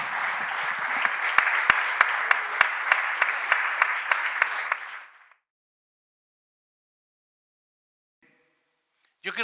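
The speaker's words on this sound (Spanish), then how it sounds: "Un fuerte aplauso para los niños." A church congregation gives a loud round of applause for the children, with dense clapping and a few sharp individual claps for about five seconds, then an abrupt cut to silence before a faint sound returns at the very end.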